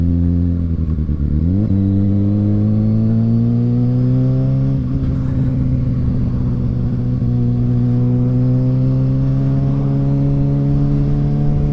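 Kawasaki Ninja motorcycle with a quick shifter pulling hard, its loud engine note climbing steadily, then dropping briefly at a clean upshift before rising again, close and continuous with no talk.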